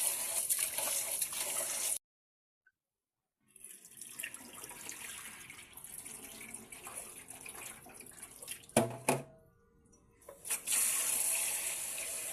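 Glutinous rice is washed in water as running water splashes steadily, drops out for a moment, then returns in gushes and swishes, close by with no talk.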